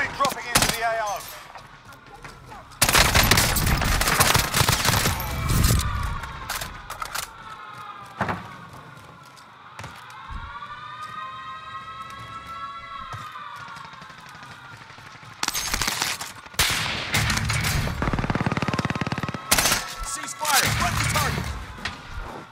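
Heavy bursts of gunfire in Call of Duty: Modern Warfare arrive in two long loud stretches. Between them sits a quieter spell with a rising and falling tonal whine, and game radio voices are heard.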